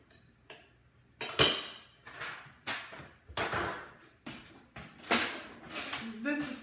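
A metal baking pan handled in a home kitchen while making a chocolate cake: a string of clinks, knocks and scrapes at irregular intervals, fairly close, with a person talking throughout.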